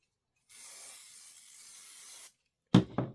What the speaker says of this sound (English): I'm going to give this a shot of spray on the wrong side